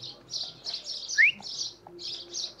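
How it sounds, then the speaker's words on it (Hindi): Small birds chirp in quick repeated bursts at moderate distance, one brighter rising call standing out among a steady series of short tweets over quiet surroundings. "यहाँ की चिड़िया काफ़ी मोटी है वैसे, हेल्दी चिड़िया"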